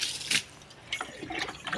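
Water poured onto jasmine and curry leaf plants in a home garden, coming in short splashing bursts of liquid with brief pauses between pours, fairly close and moderately quiet.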